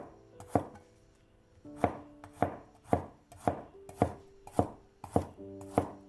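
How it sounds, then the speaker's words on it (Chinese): Knife chopping peeled garlic into slices on a cutting board: eight or so sharp, evenly spaced chops sounding close and clear, with no talking. "去皮的大蒜先切成蒜片"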